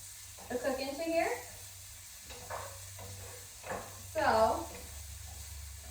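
Chicken cacciatore ingredients with garlic sizzle softly in a hot pan over medium heat, a steady low frying hiss running under intermittent speech.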